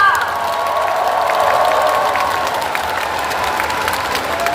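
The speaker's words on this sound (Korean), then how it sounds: "여러분 다시 한번 큰 박수 부탁드립니다." A large party convention crowd applauds steadily in a big hall, a dense, continuous wash of clapping with some cheering mixed in, loud and sustained throughout.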